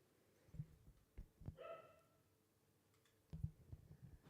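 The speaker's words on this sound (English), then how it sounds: "My dogs are saying hi to you." Dogs bark indoors at home, giving three or so separate barks spread out over a few seconds, faint and somewhat distant against a quiet background.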